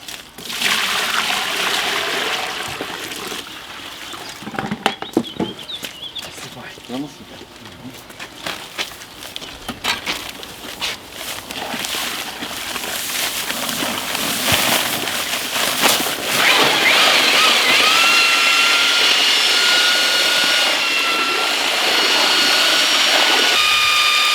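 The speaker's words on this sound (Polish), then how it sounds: "Tu sypujemy beton, woda, mieszamy odpowiednią ilość." Dry concrete mix and water are poured into a mixer and churned on a building site, producing irregular splashing, sloshing and knocking that settle into a steady loud mechanical whir of mixing.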